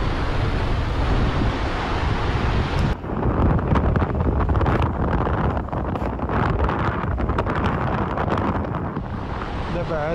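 Strong wind blows at the seaside, a steady, loud roar buffeting the microphone over the wash of surf, continuing without a break throughout.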